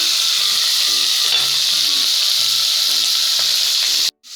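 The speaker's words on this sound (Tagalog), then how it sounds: "Amo na nagigisa ni karne" Pork meat sautéing in a pan, a loud steady sizzle and hiss with faint stirring scrapes throughout, cutting off near the end.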